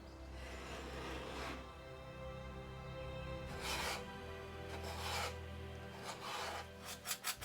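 Small detail scraper rasping old paint off a surface in repeated strokes, close and fairly loud, with a short quick burst of scrapes near the end.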